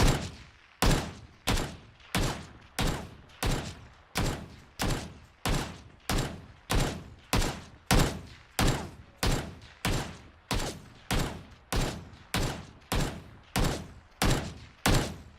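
Video game gunfire without HRTF: about twenty loud, identical single shots fire at a steady, even pace, each a sharp blast with a short decay, with no voices.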